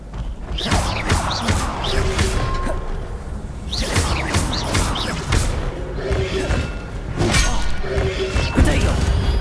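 The Incendio fire spell is cast again and again in Hogwarts Legacy amid loud combat, with whooshing bursts, heavy thuds and crashing impacts repeating densely throughout.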